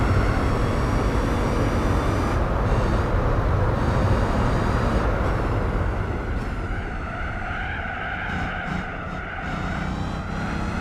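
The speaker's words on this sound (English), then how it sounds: "Beautiful sound to this engine now, supercharged." A supercharged racing car engine in Gran Turismo 4 roars continuously at high revs. A dense, loud mechanical drone dips and shifts as the car brakes into a bend, and tyre noise and gear changes come through near the end.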